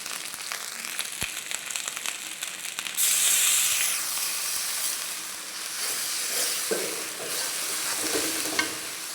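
A little water poured into a frying ginger-garlic spice paste for chicken khichuri, with scattered sizzling crackles before a sudden loud hissing burst of steam that fades into a softer, steady bubbling sizzle.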